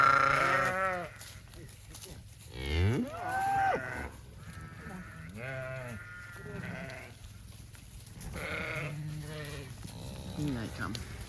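Sheep and newborn lambs bleat on a farm, with several close, wavering calls in irregular bursts over a steady low barn background, and people talking intermittently between the cries.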